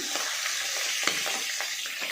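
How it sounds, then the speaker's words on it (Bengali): Pabda fish sizzle in hot mustard oil in a pan, a steady crackling fry with soft clinks and scrapes as the pieces are turned, close and continuous with no talking. "একে একে মাছগুলো ভেজে নেব"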